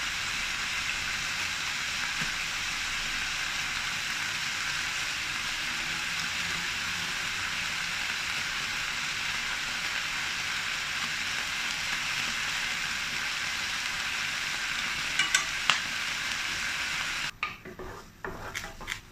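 Beef pieces browning in an oiled pan for a beef and broccoli stir-fry, giving a steady, even hiss of sizzling that runs throughout, with a few utensil clinks and scrapes near the end.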